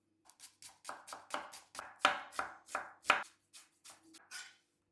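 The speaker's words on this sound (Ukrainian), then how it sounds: "І нарізаємо цибулю максимально дрібним кубиком." Rapid, rhythmic knife chopping of an onion into fine dice on a cutting board, a dozen or so close strikes that speed up, then slow and taper off.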